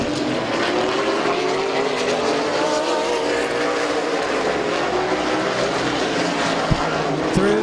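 Race cars roaring around Midvale Speedway on the final lap, a loud continuous engine drone with rising and falling pitches as the cars pass near, constant and dense throughout.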